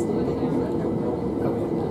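Inside a Southern train running between Wivelsfield and Lewes, a steady low rumble of carriage and track noise fills the cabin, close and continuous.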